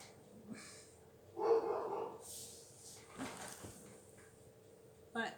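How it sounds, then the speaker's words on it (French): A dog barks a few times at moderate distance, short sharp yaps separated by quiet gaps, with some faint background noise. "ce que vous avez entendu, c'est le chien de ma soeur."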